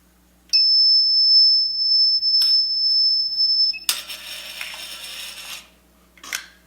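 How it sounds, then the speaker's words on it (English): A steady, piercing high-pitched 5 kHz tone, the resonant frequency of a device's accelerometer under sound attack, sounds for several seconds, broken by a few clicks, then a burst of harsh noise cuts over it. "The high-pitched noise in the background you just heard is the resonating frequency of the accelerometer"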